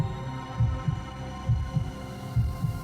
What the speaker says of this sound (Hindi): उनके दिल की धड़कनें तेज हो रही थीं